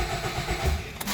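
A 2007 Nissan Rogue with a crankshaft circuit fault is started, giving a brief burst of starter cranking and the engine catching, close and moderately loud with no talking.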